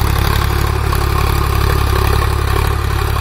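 A Sonalika DI 745 HDM power-steering tractor engine pulls a nine-tine tiller in a field, a loud, steady low diesel drone with constant rumble and no pauses.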